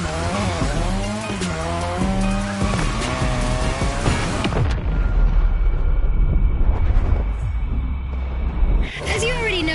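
A car drifting around a drift track in The Crew racing game, engine revving and shifting pitch, then a long harsh tire squeal and skid roar that cuts off abruptly, with game music or effects layered over.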